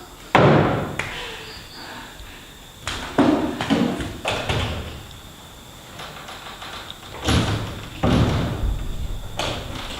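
Door thuds and slams on a stage during a monologue performance, several hard impacts spaced irregularly with softer knocks and shuffles between them in a quiet room.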